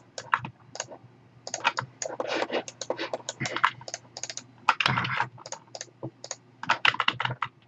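Mouse and keyboard clicks from someone working on a 3D model of a lantern, a fast irregular run of sharp, close clicks in bursts with brief pauses and no talk.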